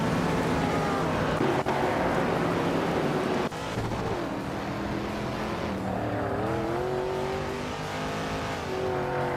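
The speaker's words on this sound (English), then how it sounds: "Bobardo is driving a 1970 Chevrolet Chevelle SS" Engines of race cars, among them a 1970 Chevrolet Chevelle SS, drone steadily in a racing video game, a continuous loud multi-car roar with shifting pitch and no speech.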